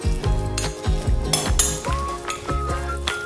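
Ground meat being gently mixed with whole-grain mustard, giving a run of soft, wet, squelching bursts in an uneven rhythm over a steady tonal background, with no talking.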